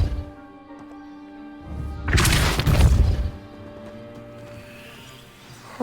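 In the Hogwarts game, a Depulso spell blasts apart a pile of debris blocking a stairwell: a loud crashing burst of shattering and thudding rubble rises after a quiet start, then fades into a low hum.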